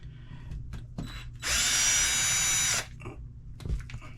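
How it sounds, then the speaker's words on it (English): A power tool drives out aluminum screws on an R/C drag car, one loud close whir lasting about a second and a half, with quiet handling clicks before and after. "Take our aluminum screws out"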